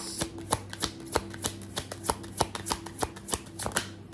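A deck of tarot cards is shuffled by hand, giving a quick, uneven patter of crisp riffling clicks and slaps that lasts the whole time, close and clear with no voices.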